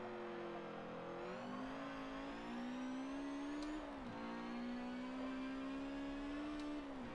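A race car engine in Forza Motorsport 7 holding a steady high drone after a hard downshift, rising slowly in pitch, dipping once briefly and climbing again, loud and close with no talk.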